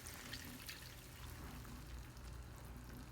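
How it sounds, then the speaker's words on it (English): A cup of milk pours into a pan for a hamburger casserole, a faint, soft steady trickle of liquid lasting a few seconds. "I'm going to add in a cup of milk."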